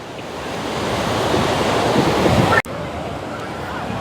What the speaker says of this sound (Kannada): ಸಿಕ್ಕಾಪಟ್ಟೆ ಸ್ಟ್ರಾಂಗ್ ಇದೆ ಮಾತ್ರ ಅಲೆಗಳು